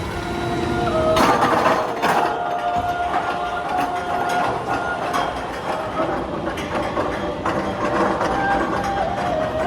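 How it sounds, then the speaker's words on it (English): Lift hill of the Phantom's Revenge roller coaster: a rapid rattling ratchet clatter from the chain and anti-rollbacks as the train climbs, with metallic clanks and a droning mechanical tone, steady and moderately loud throughout. "while Phantom's Lift Hill sounds like this"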